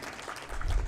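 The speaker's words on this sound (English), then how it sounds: "A round of applause, ladies and gentlemen" A short burst of clapping from the audience at a C20 India 2023 working group conclave's valedictory event, steady and swelling slightly toward the end.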